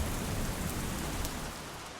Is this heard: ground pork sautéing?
no